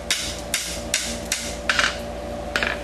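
Six sharp metallic hammer strikes on horseshoe steel over an anvil horn ring out at an irregular, unhurried pace, with a steady low hum underneath.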